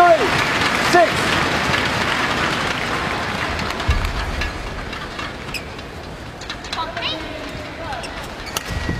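Badminton crowd at a Yonex Open Japan quarter-final women's doubles match, a continuous roar of cheering and applause from the arena with a few sharp squeals rising above it, loud throughout with commentary voices underneath.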